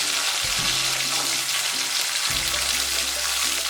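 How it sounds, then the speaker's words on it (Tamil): Vadagam and garlic frying in hot oil for a Tamil kuzhambu, a steady broadband sizzle throughout with a low hum breaking in and out underneath, close and fairly loud with no talking. "வடகம் நல்லா இப்போ பொரிஞ்சு வர நேரத்தில் நம்ம வந்து பூண்டு போட்டுக்கலாம்"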